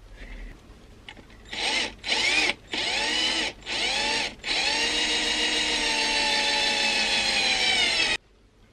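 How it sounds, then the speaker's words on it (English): An electric drill whirs in several short bursts, then runs in one long continuous spin before cutting off abruptly, close and loud. "I don't think my drill is strong enough"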